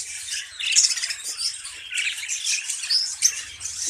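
Finch chicks in a colony cage give a continuous chorus of thin, high, rapid squeaking calls. The sound is fairly close and steady, with repeated sharper peaks and no talking.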